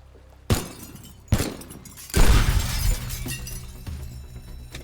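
Glass shatters in the video game Teardown: two heavy impacts, then a loud crash of breaking glass that trails off into scattered tinkling debris.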